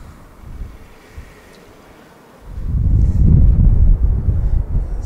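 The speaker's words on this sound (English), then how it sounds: "It's a bit breezy." Wind blowing on a beach at night: a soft, low hiss at first, then a strong, buffeting rumble of gusts across the microphone for the second half.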